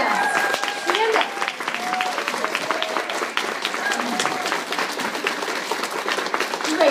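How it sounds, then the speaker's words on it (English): Applause for guests in a meeting room, a dense patter of clapping from a seated crowd lasting several seconds, with voices talking over it. "consultants, would you give them a round of applause?"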